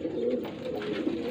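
A pigeon from a breeder's flock coos softly nearby, a low murmuring call over a quiet background, lasting just over a second.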